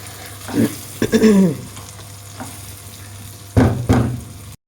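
Mango and garlic pickle cooks in a pan, giving a few short bursts of sizzling and stirring over a steady low hum, loudest near the start and again toward the end.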